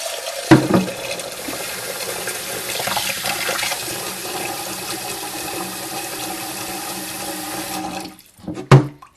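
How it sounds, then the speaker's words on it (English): Tap water runs steadily for several seconds into a bowl of sushi rice, filling it to cover the grains, then cuts off. A couple of brief clatters follow near the end. "We're going to cover it with water."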